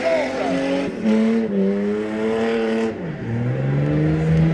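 A drift car engine revs hard with rising and falling pitch, tires squealing through continuous crowd noise and an announcer's voice at a drag power show in Chambley.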